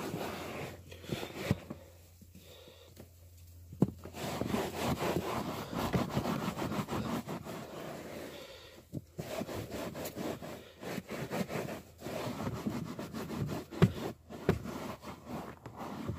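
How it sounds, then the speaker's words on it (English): A microfiber towel wipes and mops the carpet inside a car during mobile auto detailing, making repeated close scrubbing and rubbing strokes in an uneven rhythm with no talking. "Now I'll mop up. With my microfiber cloth,"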